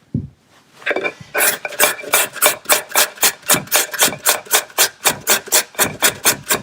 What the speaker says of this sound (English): I'm going to start grating